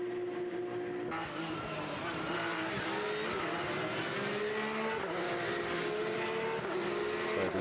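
Porsche Sports Cup race cars, including an Amag Rennsport car, racing at Monza produce sustained high-revving engine whines that rise and shift in pitch as several cars pass, loud and continuous.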